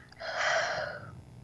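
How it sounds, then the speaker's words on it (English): A person draws one long, deep audible breath in, rising and fading over about a second, close to the microphone with no talking. "Keep breathing in."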